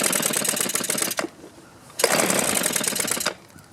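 A two-stroke trimmer engine on half choke fires in two short, rapid sputtering bursts, each lasting about a second, with a brief quiet gap between. The sound is close and fairly loud.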